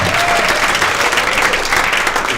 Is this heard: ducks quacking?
no